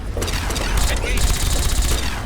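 Gunfire in the video game Fallout 3, loud dense bursts of rapid shots and booms crowding together throughout, with a voice talking over the shooting.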